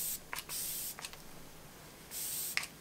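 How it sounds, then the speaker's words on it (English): A Glam Glow setting spray mister gives three short, soft hissing bursts close by, each spray a breathy puff separated by quiet pauses, with light handling clicks between them. "I'm going to put some setting spray on. This is just by Glam Glow."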